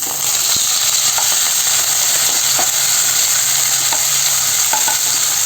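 Pepper-and-salt marinated chicken pieces fry hard in hot oil over a high flame, giving a loud, continuous sizzle with occasional scraping and clinks of a spatula throughout.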